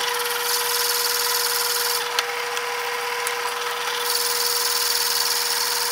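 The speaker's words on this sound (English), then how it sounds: "some more drilling here" A drill grinds through a handle being made for a double edge safety razor, a continuous close rasping whir that holds steady for the whole stretch with small scrapes and ticks.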